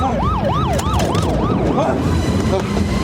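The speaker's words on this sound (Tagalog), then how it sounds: "May dumating na mobil ng pulis." A police car siren wails loud and near in steady rising and falling sweeps over a running vehicle engine, then fades and breaks up toward the end.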